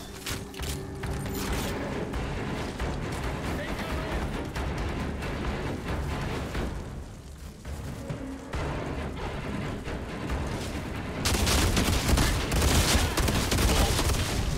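Gunfire in the video game Outriders blows enemies apart, with rapid mechanical shots and clattering bursts over dense game noise and music, loud and continuous, growing heavier toward the end.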